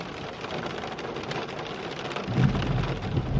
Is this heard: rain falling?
yes